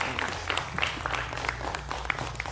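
Audience applause welcoming a spiritual speaker onto a stage: steady, fairly quiet clapping from a crowd, continuous for a couple of seconds with scattered sharper claps above a low hum.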